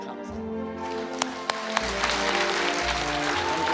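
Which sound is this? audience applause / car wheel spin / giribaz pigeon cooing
audience applause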